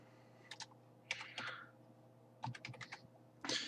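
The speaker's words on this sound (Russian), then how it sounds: "сейчас введу сообщение, код, который мне прислали" A code keyed into a phone keyboard while paying through Sberbank Online: short bursts of crisp, close tapping clicks separated by brief pauses, with no speech.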